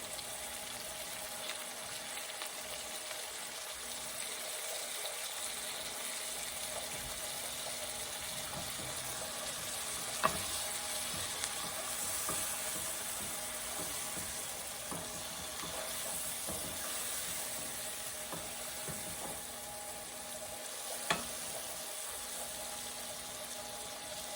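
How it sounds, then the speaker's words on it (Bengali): Frozen tomatoes and green chilies fry in a home kitchen pan with a faint, steady sizzle and soft hiss, broken by a couple of brief louder clinks or spatters. "ফ্রোজেন টমেটো আছে টমেটো দিয়ে দিচ্ছি কাঁচা মরিচও দিয়ে দিচ্ছি"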